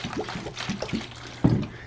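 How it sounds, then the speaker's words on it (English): Water pours from a half-gallon container into a seedling cell tray, soft trickling and splashing in a few short bursts with a louder splash near the end, quiet and close. "You want to put in about a ¼ inch of water"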